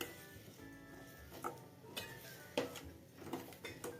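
A spoon stirs curry in a pot with faint, scattered clinks and taps against the metal rim, quiet and close with soft shuffling between strokes.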